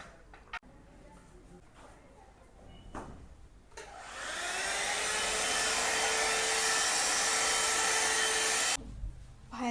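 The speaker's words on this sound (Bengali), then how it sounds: "যার জন্য আমাকে ব্লো ড্রায়ার দিয়ে দেবো" A blow dryer dries hair indoors, switching on with a loud, steady whooshing roar that holds for about five seconds and then cuts off, with soft handling noises before it starts.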